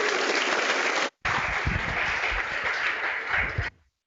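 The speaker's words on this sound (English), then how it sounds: "one last round of applause for all of our speakers" An audience at a spring symposium applauds its speakers, a steady dense round of clapping with one abrupt brief cut, then continuing before stopping sharply.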